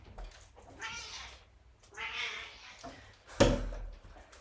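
A house cat meows indoors during a quiet chair yoga session, two drawn-out, insistent meows close by, followed by a sharp knock like a door closing.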